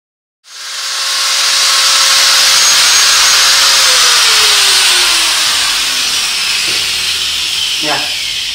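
A power tool trims about 1 mm off a Velbon DV7000 tripod part, giving a loud, steady, close hissing whine that starts abruptly and holds with a slowly falling tone, no talk.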